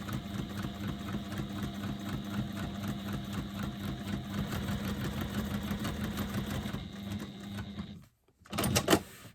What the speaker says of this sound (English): I'm just going to sew baste within the seam allowance using the longest stitch I have on my machine